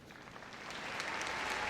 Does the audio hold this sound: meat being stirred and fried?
no